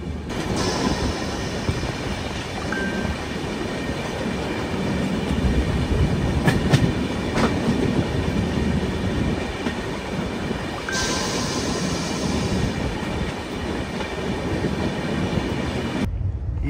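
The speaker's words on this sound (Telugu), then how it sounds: "మా ట్రైన్ పరిస్థితి అయితే ఇది, ఇలా స్లోగా వెళ్తుంది." A Bengaluru–Guwahati superfast express train rolls slowly, heard from inside as a loud, steady rumble with wheel clatter and faint squeals, continuous throughout with no speech.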